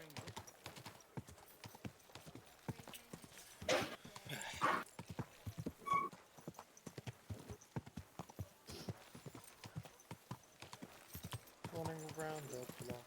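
Horse hooves clip-clop at a steady walking pace in Kingdom Come Deliverance 2, close and fairly quiet, with a brief whinny partway through and game ambience under a rider's occasional talk.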